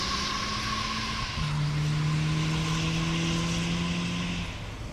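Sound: Harley-Davidson motorcycle engine revving in place

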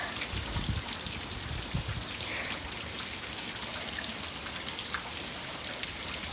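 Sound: rain falling

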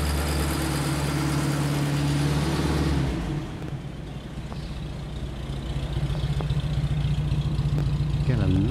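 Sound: vintage car engine idling, muted exhaust

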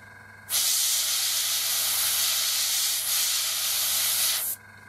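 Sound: airbrush spraying yellow paint on a model kit

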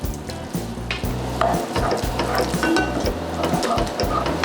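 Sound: salad dressing poured onto glass noodles and mixed

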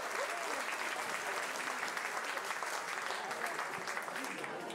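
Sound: audience applause after a band performance

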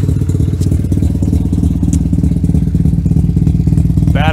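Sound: Mazda RX-7 FD rotary engine idling and revving

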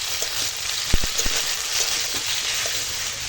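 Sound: potato, tomato and ginger-garlic paste frying in a pan

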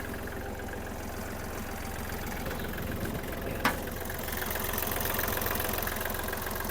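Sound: Kubota GL-21 mini tractor diesel engine idling

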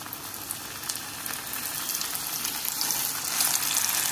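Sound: scorpionfish pieces frying in hot oil

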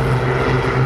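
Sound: vintage propeller aircraft engines flying in formation

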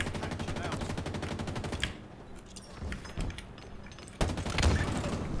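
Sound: gunfire from weapon in video game Halo Infinite

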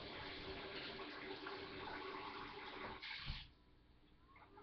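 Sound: rinsing fruit under running tap water

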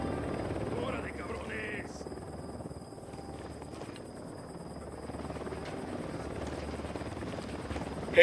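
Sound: helicopter in a video game

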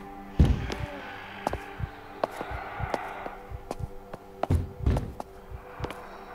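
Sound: door banging

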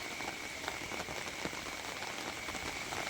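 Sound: heavy rain in Tapa town

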